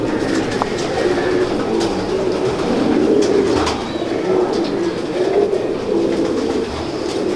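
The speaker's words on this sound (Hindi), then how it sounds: "कौन से कबूतरों का शौक करवा रहे हैं?" Several pigeons coo in a steady, overlapping murmur at a pigeon fancier's loft in Lahore, with a constant hum of background noise and no speech.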